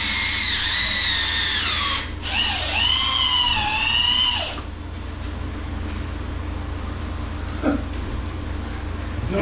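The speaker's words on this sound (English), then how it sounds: "Now putting in screws on the seams." A power drill drives screws through seams in a meat cooler's rail system, whining loudly in two rising-and-falling bursts before stopping, leaving low background hum and a faint clunk.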